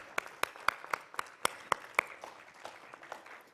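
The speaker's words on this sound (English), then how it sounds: "I'm going to clap the hardest for you." Sparse, distinct handclaps from a small audience at a grain ethanol technical summit, individual sharp claps ringing out unevenly and fading toward the end.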